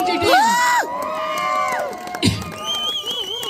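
A crowd at a local KPL cricket match cheers, whoops and shouts close by, with loud bursts of excited voices rising and falling over a few seconds.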